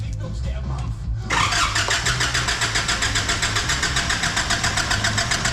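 A Nissan Patrol diesel fitted with new injectors cranks briefly and catches, settling into a loud, steady, rapidly pulsing idle close by, with a little background noise before it fires.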